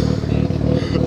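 A Japanese performance car idles close by at a car meet outside a cafe, a steady loping low rumble with slight rhythmic pulsing throughout, loud and continuous with no other sound standing out.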